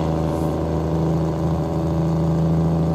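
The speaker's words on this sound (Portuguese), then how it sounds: "Agora ela tem velocidade, olha lá, ó, pra vocês verem, ó. O motor chega a subir." Mercedes-Benz 1938S truck engine in Euro Truck Simulator 2, a steady loud drone with strong low harmonics that rises gently in pitch as it revs, heard alone and close throughout.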